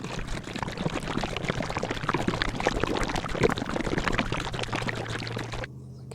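A bottle of hydroponic nutrient solution shaken vigorously by hand, giving a continuous dense liquid sloshing and rattling that runs steadily for several seconds before stopping abruptly near the end.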